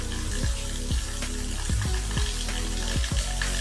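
Ingredients dry roasting in a pan over a medium gas flame, a soft steady sizzle broken by sharp scraping stirs that come roughly every half second, close and clear.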